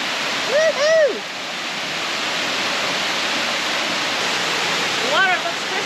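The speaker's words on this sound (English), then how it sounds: "Our own private waterfall." A waterfall on a South Pacific island pours in a steady, broadband rush that fills the whole clip, with excited voices briefly rising over it near the start and end.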